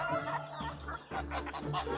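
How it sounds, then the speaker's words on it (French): Hens cluck steadily and close by, several birds overlapping in short, busy bursts with no talking. "toutes les poules, tous les coqs accouraient"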